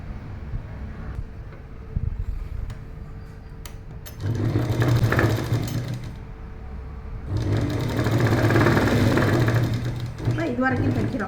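Sewing machine stitching a straight seam on a pair of pants; the motor whirs steadily in a couple of sustained bursts, with a voice talking over it.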